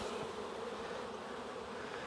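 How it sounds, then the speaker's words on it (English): A dense swarm of honeybees drones steadily as they are shaken off a hive frame in early fall, a close, continuous buzzing with no pauses and no voices. "So let's dump the bees."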